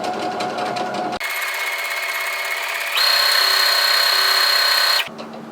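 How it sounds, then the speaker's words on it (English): Brother SE400 embroidery sewing machine stitching at speed, a loud close mechanical whir with fast, even needle rhythm that changes pitch partway through and then stops abruptly, and no talking. "So that clonk I was talking about before is really subtle now."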